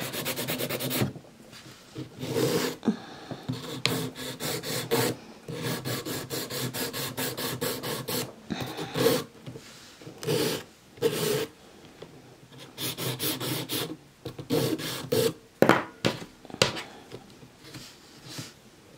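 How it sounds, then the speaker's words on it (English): Nail file rasping across the free edge of a nail during a gel manicure, repeated short back-and-forth strokes in bursts with brief pauses, close and clear, no talking. "this nail needs no filing other than sorting out the free edge"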